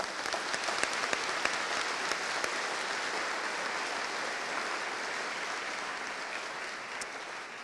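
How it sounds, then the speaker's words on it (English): A school-district audience at an Educator of the Year celebration claps in a dense, steady ovation, heard faint and somewhat distant throughout, with no voices over it. "Let's give them a round of applause."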